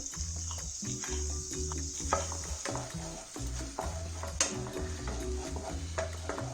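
Onions and tomato ketchup sautéing in a pan for egg Maggi noodles, a steady soft sizzle broken by repeated scraping and clacking stirs of a spoon against the pan.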